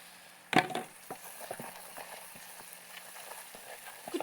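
Garlic frying with berbere in a pan gives a sharp sizzling burst as it goes in, then a crackling, popping fry with scattered small clicks that fades to a lower steady hiss.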